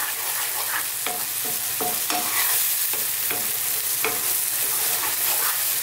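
King fish masala curry stirred in a hot pan: a spoon scrapes and pushes through the thick sizzling sauce in repeated strokes about every half second, close up over a steady frying hiss, no talk.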